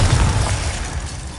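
A Bombarda blast spell in the Hogwarts Legacy video game, a loud booming explosion with a heavy low rumble at the start that fades into a rough, crackling wash.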